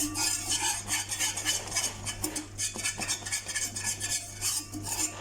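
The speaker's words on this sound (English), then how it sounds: "Just try and scrape down your sides so that it all cooks well." A spatula scrapes around the sides of a pan of cooking gram flour mixture, giving repeated close scratching strokes over a low steady hum, with no talk.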